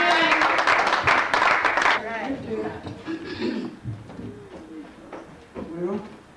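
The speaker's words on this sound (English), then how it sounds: "Let's give Minister Mother Mabel Thomas a round of applause" Audience applause at a church appreciation program, a dense burst of clapping for about two seconds that then fades under speech and murmuring.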